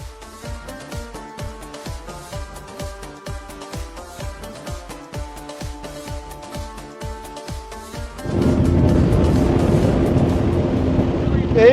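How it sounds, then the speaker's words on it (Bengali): A speedboat's engine on the sea crossing to Sandwip in Bangladesh throbs in a rapid, regular pulse before rising into a loud, steady roar with wind rushing past. "এই নিয়ে এটা আমার দ্বিতীয়বার মতো সন্দ্বীপ যাত্রা, তাও স্পিড বোটের মাধ্যমে।"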